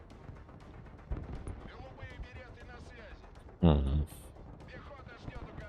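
Mortar fire in the military strategy game Broken Arrow, with scattered distant thuds and one loud, close boom near the middle, under quiet talk from a man.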